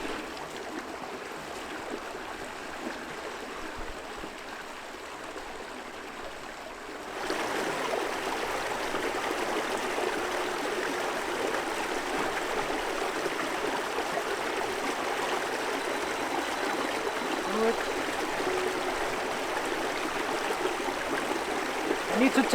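A mountain stream flows steadily in the Arctic, a continuous broadband rushing that grows louder and nearer partway through, with a voice faintly present at times.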